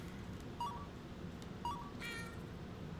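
Short meows from a cat in the video game YIIK, three of them in quick succession, set over a constant low hum of game background sound, with no talking.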